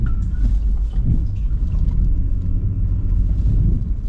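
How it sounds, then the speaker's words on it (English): A Lexus GX470 SUV, also known as a Land Cruiser Prado, plows along a snowy road, giving a steady, heavy low rumble of engine and road noise with some wind buffeting throughout. "John's Lexus GX470, aka a Land Cruiser Prado, is coming in clutch, plowing the road for us."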